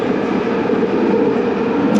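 A London Overground train heading towards Golders Green rumbles loudly and steadily from inside the carriage, a constant roar of wheels and motor with no talk.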